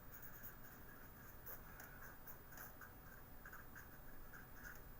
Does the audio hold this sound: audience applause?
no